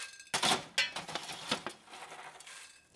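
A scooper digs popped popcorn out of a machine into a bowl, giving several close, scraping rustles with light clinks in an uneven rhythm, then a quiet pause and one final small tap.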